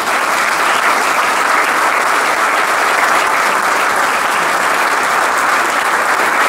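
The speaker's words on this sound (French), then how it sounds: "On va venir l'applaudir" Restaurant guests applaud steadily at an awards evening at an Indian restaurant, a dense, loud wash of many hands clapping without a break and no voices above it.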